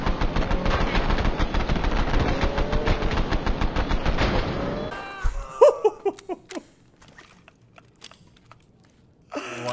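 A new gun in the game Escape from Tarkov fires a rapid, steady automatic burst for about five seconds, followed by scattered single shots and sharp impacts at lower level.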